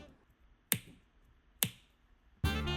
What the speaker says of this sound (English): Take a listen to this recording of me snapping my fingers.